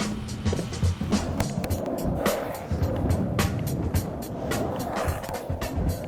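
Cruiser skateboard wheels rolling over pavement, a steady gritty rumble with scattered clacks and bumps, fairly close and moderately loud, no talking.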